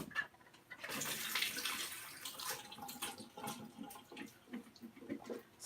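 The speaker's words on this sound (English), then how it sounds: "So the best way to drain it is just take the lid off and then just pour it" Water poured off a pot of vegan menudo into a drain, a gushing splash that starts after a brief pause, holds for about two seconds, then breaks into scattered trickles and drips.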